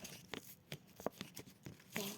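A paper sticker is peeled off a page while unpacking paper surprise packets, giving a series of short crisp tearing and crinkling bursts that are close and quiet, with soft gaps between them.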